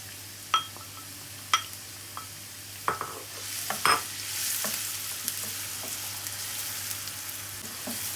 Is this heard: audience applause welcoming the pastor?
no